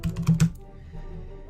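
A short run of computer keyboard keystrokes, a handful of quick close taps in the first half-second, then quiet room tone.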